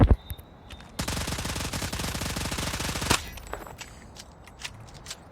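A sustained automatic burst from a heavy-recoil gun in Call of Duty Mobile, fired for about two seconds in a rapid, even stream of shots, followed by quiet game sounds.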